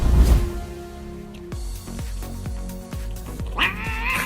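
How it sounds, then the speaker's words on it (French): A cat meows loudly, with a strained yowl at the start and another rising cry near the end. Dull, evenly spaced thumps fall in between, and no one speaks. "il est étrangement resté calme, quelques secondes. Il était certainement en train d'évaluer la situation avant de commencer à miauler bruyamment jusqu'à ce qu'il obtienne ce qu'il veut"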